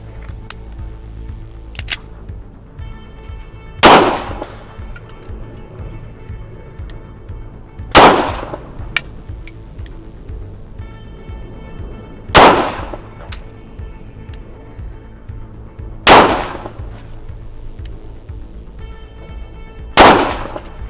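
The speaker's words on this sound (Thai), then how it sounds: "เดี๋ยวผมจะยิงที่เป้าขวามือนะครับ" A Kimber EVO SP pistol fires LRN rounds at a target 10 metres away, five sharp, loud single shots spaced about four seconds apart, with quiet range background between them.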